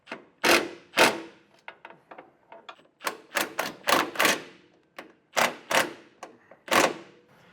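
A ratcheting socket wrench on a wobble extension tightens a bolt for a Curt Class III trailer hitch on a 2017 Volvo, close-up. It gives loud sharp clicks and clunks in uneven bursts, with no voices.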